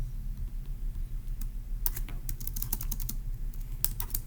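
Keystrokes on a computer keyboard come in an irregular burst of close, crisp clicks over a low steady hum, starting sparse and then quickening into a run of typing.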